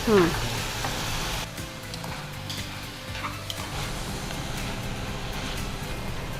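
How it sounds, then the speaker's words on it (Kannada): Soybeans frying in a pan for dill leaf pulao, a steady close sizzle with occasional stirring scrapes running throughout. "ಸೋಯಾಬೀನ್ ಹಾಕಿದೆ, ಸ್ವಲ್ಪ ಫ್ರೈ ಆಗಬೇಕು ಅದು."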